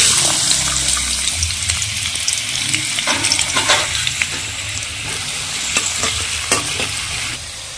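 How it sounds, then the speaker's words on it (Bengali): Chopped onions frying loudly in hot oil for meat fried rice, a dense continuous sizzle with stirring scrapes and crackles close up, no voices. "ওই তেলে সবজিগুলা ভেজে নেব। পেঁয়াজ কুচি দিয়ে দিলাম আগে।"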